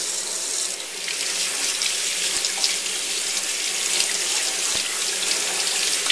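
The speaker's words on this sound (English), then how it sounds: "This time it's running water." Tap water runs steadily in a continuous splashing hiss, close and even throughout.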